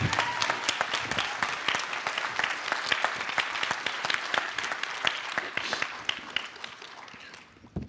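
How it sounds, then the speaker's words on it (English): A convention panel audience applauds with dense, continuous clapping that stays loud throughout and fades slightly at the close. "I started that slow clap, by the way."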